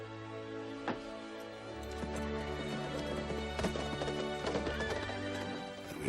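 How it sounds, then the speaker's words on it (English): Four white horses ride out together, hooves clip-clopping in a steady rhythm with a horse whinnying over a swelling film score. "the four heroes ride out on the four white horses"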